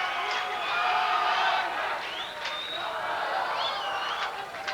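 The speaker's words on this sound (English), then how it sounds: "It's going to be tough to quiet this crowd down for the start." Crowd noise at a 1998 boys' state swimming and diving finals in a natatorium, a steady murmur of cheering spectators under a close announcer's voice, with occasional whistles rising above it.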